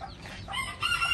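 Young Gà Tre bantam roosters crow briefly in a backyard flock, a short, fairly close crow rising at the end over light background noise.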